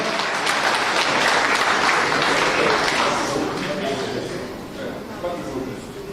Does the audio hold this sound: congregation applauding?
yes